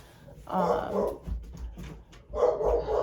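A dog barks in two short bursts separated by a pause, fairly close, with a low rumble of background noise between.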